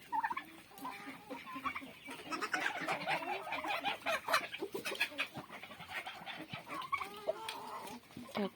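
A young white bantam rooster with calico-patterned hens nearby clucks repeatedly, close and fairly busy, with other fowl and turkeys calling in the background on a small farmyard.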